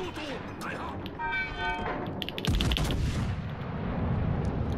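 Battleship broadside gunfire in World of Warships Legends, a heavy booming volley building into sustained rumbling with a rising whistle-like tone, over constant game background noise.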